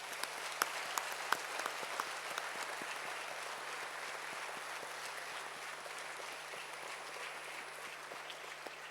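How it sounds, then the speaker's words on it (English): Applause for lecturers at a university convocation rolls on as a continuous, even patter of many hands clapping in a large hall, moderately loud and steady for the whole stretch, with no voices over it. "join me in a round of applause for their commitment and guidance throughout the years"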